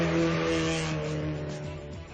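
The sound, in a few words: Ken Block's Subaru Impreza WRX STI Gymkhana 2 car engine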